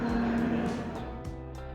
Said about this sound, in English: there's lots of immersive sounds of engines revving and whatnot